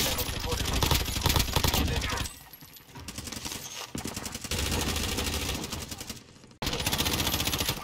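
Rapid bursts of gunfire in Call of Duty: Warzone rattle loudly in several stretches with brief quieter gaps, while voices talk over the action.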